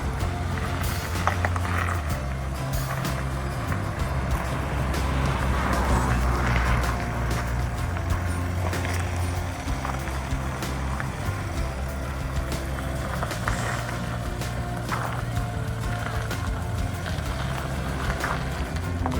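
A vehicle reversing a fifth wheel caravan up a tight driveway, giving a steady, fairly loud low engine rumble throughout with occasional crunching and scuffing of tyres on the ground.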